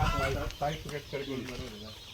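Hens and small chicks cluck and chirp in the chick section of a free-range desi gavran poultry farm. The calls are steady and moderately close, running beneath someone talking throughout.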